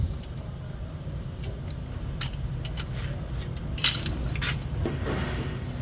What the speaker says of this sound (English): as I crank this, the brake shoes are moving away from the drum